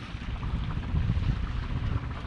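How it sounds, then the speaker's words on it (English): A low, steady rumble with constant wind noise, like a boat engine idling nearby out on open water. "Yeah, he's got his engine going."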